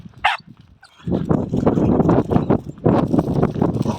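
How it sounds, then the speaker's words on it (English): An outdoor sheepdog gives a few close barks and whimpers amid rustling and thudding steps, with a sharp short yelp near the start. "there's vicious sheepdogs on the loose up here"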